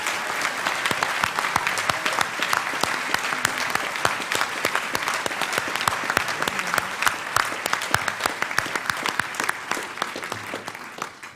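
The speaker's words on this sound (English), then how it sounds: "We thank you all, and a big round of applause for the previous recipients." A large awards-ceremony audience at the Ridenhour Prizes applauds previous recipients, with dense, steady clapping from many hands sustained throughout at moderate loudness.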